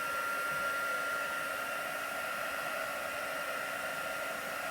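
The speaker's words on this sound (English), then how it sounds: "I'm going to just grab my little dryer here." A small handheld craft heat dryer blows continuously, a steady whooshing hum with no pauses.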